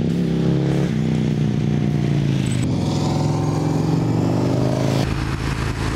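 An Avinton motorcycle engine roars loudly and continuously, its pitch climbing as it accelerates, with a shift in tone partway through.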